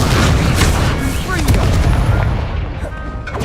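Loud, rumbling explosive blast from the Confringo spell in the video game Hogwarts Legacy, with heavy booming impacts that decay over a few seconds.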